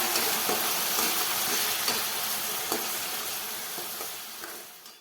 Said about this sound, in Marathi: आपल्या ह्या ज्या भाज्या आहेत ना चांगल्या तेलामध्ये परतल्या आहेत